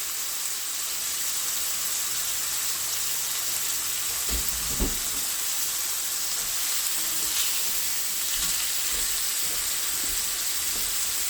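Cabbage searing in a hot pan gives a loud, steady, close sizzle that hisses without a break, with one or two brief spatters or utensil knocks partway through.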